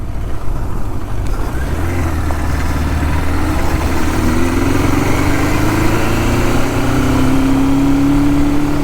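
A 1977 Suzuki GS550 motorcycle engine runs steadily and loud, its pitch rising as it revs, then bogging, sagging and stumbling briefly before recovering.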